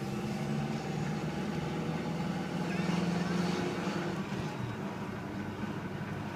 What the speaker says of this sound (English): Accelerates and switch gears with no problems.